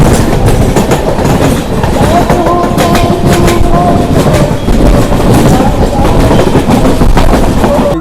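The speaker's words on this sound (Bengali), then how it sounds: "আর এটা হচ্ছে লালপুরা ট্রেন যাচ্ছে, তোমরা দেখতে পাচ্ছ নাকি?" A Lalgola train passes on the Naihati to Barrackpore line, a loud, continuous rumble with rhythmic clickety-clack of wheels and a faint squealing tone.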